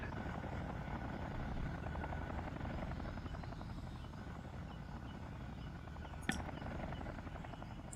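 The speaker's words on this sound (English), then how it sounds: "Do get worried having these helicopters just hanging out in the middle of the road here." Helicopters hover over a road in the video game Vietnam '65, giving a steady, loud rotor thrum with dense low chopping that runs unbroken throughout, with a brief sharp click near the end.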